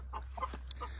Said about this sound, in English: but here's our chickens.